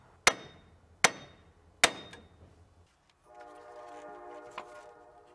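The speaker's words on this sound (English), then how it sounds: "use a hammer to tap the knuckle down and off of our strut." Three sharp metallic hammer strikes on a car's steering knuckle ring out about a second apart, followed by a sustained tonal horn-like sound.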